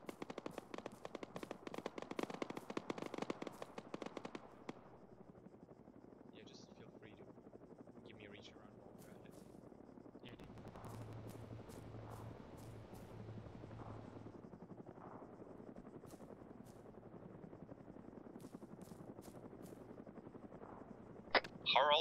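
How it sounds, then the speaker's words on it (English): An Mi-8 helicopter lands in a military video game, its rotor drone rumbling steadily alongside bursts of gunfire and scattered effects, with voices speaking over it. "Looks like the MI-8's about to land."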